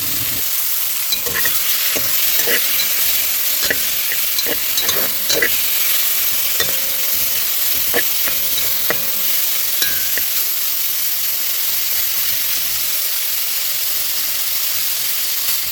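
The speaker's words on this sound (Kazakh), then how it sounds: "Сосын әдемі май шыққанша қуырамыз." Sheep tail fat frying in a hot cauldron as it renders, giving a loud, dense, continuous sizzle and hiss with scattered crackles and pops, close up and steady throughout, with no talking.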